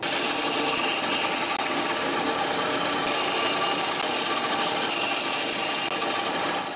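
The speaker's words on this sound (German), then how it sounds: "das schneide ich jetzt mal an der Bandsäge raus" A band saw cuts through a wooden workpiece, a steady loud rasping whine that runs without pause for several seconds, with no talk.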